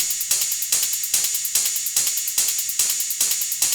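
Crisp ride cymbal hits repeat evenly on the offbeat in an electronic dance track, bright and up front, each stroke trailing a short wash.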